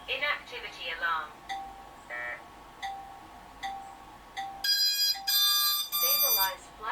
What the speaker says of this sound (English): Inactivity alarm.